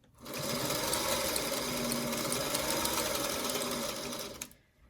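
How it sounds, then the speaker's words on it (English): A sewing machine runs steadily while stitching a quilt block seam for a daisy chain block, one continuous close whirring run of about four seconds that stops abruptly. "I just hold it into place and sew to the end"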